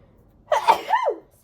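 A single sharp sneeze bursts out after a brief quiet, loud and close, with a quick breathy tail.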